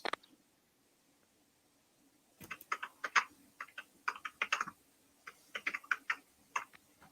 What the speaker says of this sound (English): And there's someone typing.